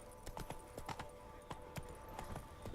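Roach the horse trots along in The Witcher 3, with steady, close clip-clop hoofbeats in an even rhythm over a faint background hum.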